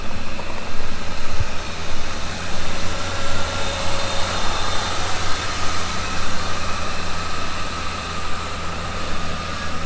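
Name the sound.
Ford 351 Cleveland V8 engine idling in LTD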